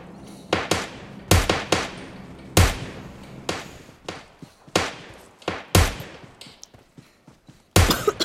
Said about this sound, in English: where are the shooting coming from?